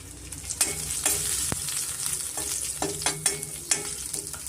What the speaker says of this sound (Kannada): ಶುಂಠಿ ಫ್ರೈ ಆದ ತಕ್ಷಣ ಸ್ವಲ್ಪ ಕರಿಬೇವು.